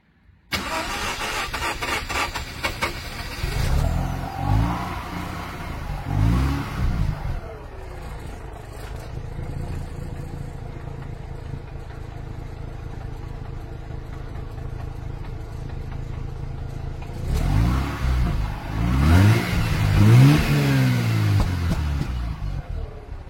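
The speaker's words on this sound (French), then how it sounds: "Je vais vous faire démarrer le véhicule et puis on va écouter le bruit." Japanese car engine cranks and catches with some difficulty, then idles steadily before revving in bursts near the end; close, loud and continuous, with no voices.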